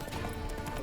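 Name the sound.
horse in the video game The Witcher 3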